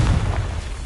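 Fire spell Confringo going off in the Hogwarts Legacy game, a booming, close explosion that hits hardest at the very start and then rolls on as a dense, fading rumble.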